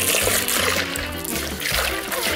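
Water runs from a tap into a bucket being filled with ice water, a steady near splashing and trickling stream with a faint voice underneath.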